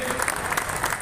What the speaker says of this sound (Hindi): सभी तालियों के साथ स्वामी विवेकानंद जी का स्वागत करें।